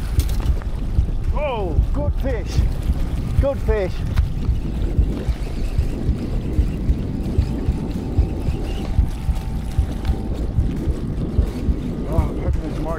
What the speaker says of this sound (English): Don't know what it is, but it's blooming windy